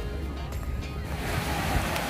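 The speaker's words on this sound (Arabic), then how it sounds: "كيف شفتو معايا البحر صراحة ما اجمله خاوي ونقي" Sea waves wash onto an empty beach in northern Morocco, a continuous surf roar with rising swells and some wind buffeting the microphone, heard alone without talk.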